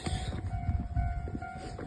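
A train passing at a railway crossing in snowy weather, a low continuous rumble with a faint steady tonal whine, moderately distant and unbroken throughout.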